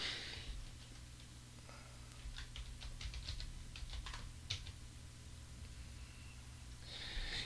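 Fingers typing on a computer keyboard, a steady patter of quiet, close key clicks with small clustered bursts over a faint background hum, and no talking.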